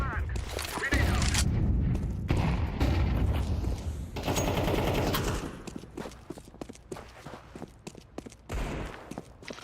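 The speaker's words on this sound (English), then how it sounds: "Throwing a flashbang." Flashbang grenade and gunfire in Counter-Strike 2, loud bursts of rapid shots and a heavy blast early, then sparser clicks and footsteps with a player speaking over the action.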